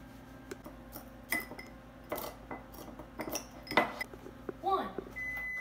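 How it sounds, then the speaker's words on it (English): Doritos crunched and mashed in a bowl with a metal spoon, giving irregular scraping clinks and crackly crunches at close range, with a few louder spoon-on-bowl knocks spread over several seconds. "with a metal spoon, not a plastic one, you're gonna start mashing."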